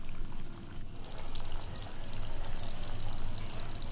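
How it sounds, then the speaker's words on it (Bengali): Water is stirred into chicken curry in a pot, which is then set to boil, producing a continuous close, bubbling, liquid sloshing texture with no voices. "এবার জলের সাথে মাংসটা ভালোভাবে নেড়ে চেড়ে দিয়েছি, জাল বাড়িয়ে এবার ফুটতে দিয়েছি"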